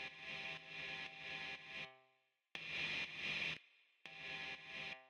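Atonal Foley drone processed through Ableton's Resonators plugin tuned to C, producing a bright, buzzing harmonic wash in three sustained bursts separated by short gaps.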